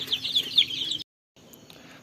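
Young chicks raised from an incubator peep in shrill, rapid bursts for about a second, then fall silent before fainter chirps return.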